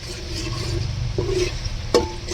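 Chili frying with turmeric and coriander-cumin powder in a pan gives a steady close sizzle, with a few scraping stirs of a spoon against the pan.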